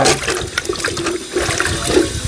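Tapioca pieces are washed by hand in water, a loud, continuous sloshing and splashing close by for a couple of seconds. No speech.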